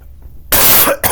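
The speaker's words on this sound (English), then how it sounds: "Sorry, I've got a bit of cough." A single loud, harsh cough bursts out after a moment of quiet, followed by a brief second burst.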